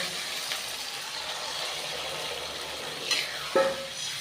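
Chili chicken sauce with cornflour and added hot water bubbles and sizzles in a pan, a close, steady hiss broken by a couple of sharp stirring scrapes and a clink of a utensil near the end.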